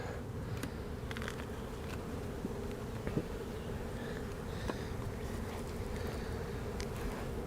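Honey bees hum steadily over a brood frame with nurse bees on it, a close, even drone with a few sharper passing buzzes and no talking.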